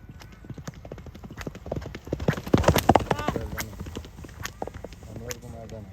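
Horses gallop past at a horse racing contest in Malappuram, with loud, rapid clip-clop hoofbeats building to a peak and fading, a brief whinny, and people talking in the crowd.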